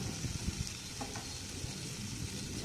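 Rice flour laddu mixture being stirred in a covered pan, a quiet soft sizzle with faint scraping strokes and low thumps of the spoon.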